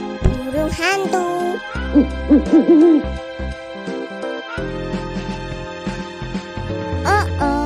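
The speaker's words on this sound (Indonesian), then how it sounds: "burung hantu" Owl hooting in a series of soft rounded calls set against cheerful children's music, clear and close with a brief voice near the end.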